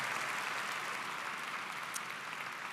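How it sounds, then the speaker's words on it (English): Sustained applause from a large crowd at a high school commencement ceremony for the Walt Whitman High School class of 2026, a steady dense wash of clapping with no talk over it. "Give yourselves a round of applause."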